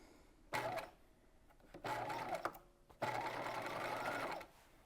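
A sewing machine top stitches a seam on a waspie corset belt, running in three bursts of steady whirring, the last one the longest, with short quiet pauses between them.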